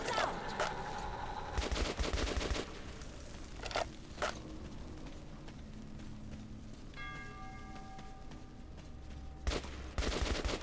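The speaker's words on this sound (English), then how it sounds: "we're getting closer to people because I'm hearing voices and gunshots" Bursts of gunfire from the video game Metro, with several rapid volleys near the start, scattered shots through the middle and a loud shot near the end, set against a dark ambient game soundscape.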